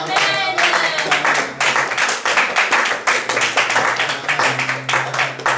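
A church congregation claps in steady, rhythmic unison, loud and near, with a few voices cheering among the hands in praise of the Lord.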